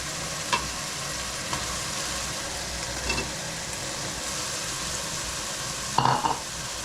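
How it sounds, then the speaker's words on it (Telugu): Soya chunks fry in a pan for a dum biryani, giving a steady sizzle with a few sharp scraping stirs of the spoon, the loudest one near the end. "తర్వాత సోయా వేస్తున్నాను."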